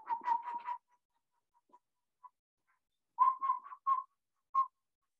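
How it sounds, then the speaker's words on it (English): A person whistles short bird-like notes while turning the head back and forth, two clusters of clear close whistles separated by a quiet gap, each group made of several quick pulses. "I'm going to whistle and I'm going to turn my head back and forth."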